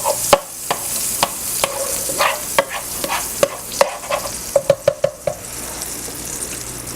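Margarine melting into olive oil in a pan over medium heat for lasagna, with a steady low sizzle under repeated sharp clinks and scrapes of a utensil stirring against the pan, close and fairly loud.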